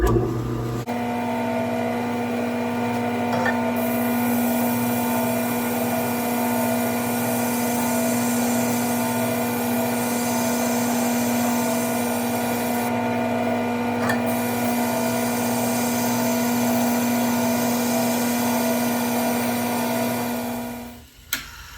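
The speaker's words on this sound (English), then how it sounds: "This is a sharpening rig of my own concoction, inspired by the Tormach sharpening system." A homemade knife-sharpening rig, inspired by the Tormach system, grinds a convex edge with a steady, unbroken motor whine and hum that holds for about twenty seconds before cutting off abruptly.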